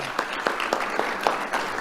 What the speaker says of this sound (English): Let's have a round of applause for Evelyn Willis.